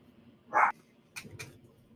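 A dog at home gives a single bark at a package delivery, followed by a couple of faint, short sounds and no talking.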